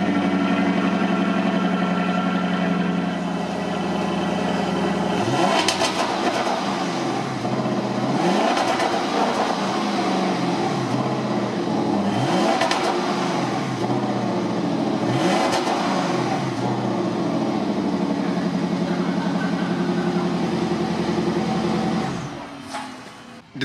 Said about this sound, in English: since we heard a bit of that exhaust clip